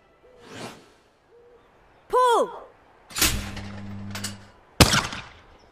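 Shotgun blasts at skeet targets in the London 2012 Olympic video game: two sharp, loud shots with ringing tails, preceded by softer whooshes and hooting target-launch tones, with quiet gaps between them.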